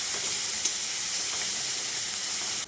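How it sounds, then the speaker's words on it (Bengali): Minced onion fries with garlic in a pan, giving a steady, moderately quiet sizzling hiss with a small pop near the start. "পেঁয়াজটা দিয়ে রসুনের সঙ্গে আরও কিছুক্ষণ ভেজে নিচ্ছি"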